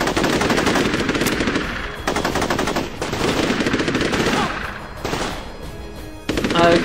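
Machine gun fire in the video game Unearthed: Trail of Ibn Battuta, loud rapid bursts of automatic shots in several long volleys separated by short pauses, harsh and close.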